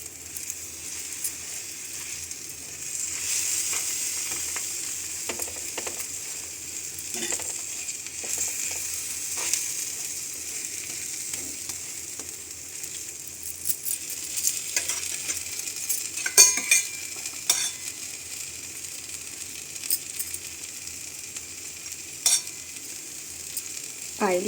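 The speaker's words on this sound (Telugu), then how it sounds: "ఇలా దోశ మీద ఉల్లికారం, స్ప్రెడ్ చేసుకోవాలి" Ullikaram onion paste spread over a dosa on a hot griddle, with a steady sizzle of frying throughout and intermittent scraping and tapping of a utensil on the pan, close by and with no talk.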